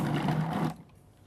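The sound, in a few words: Cuisinart Elite 14-cup food processor mixing dough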